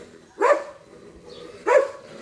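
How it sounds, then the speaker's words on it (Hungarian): A police service dog barks twice, evenly spaced, from a new kennel set up in a station courtyard; the barks are close and loud against a quiet background. "most itt az udvaron felállított új kennelben már ez a szolgálati kutya is található"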